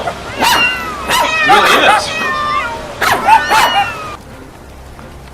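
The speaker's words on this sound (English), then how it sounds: "You say it's raining cats and dogs?" A dog barks and yips alongside meowing-like cries in a comic sound effect, a few loud bursts in two clusters, with a voice speaking briefly over it.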